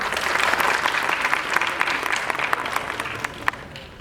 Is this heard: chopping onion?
no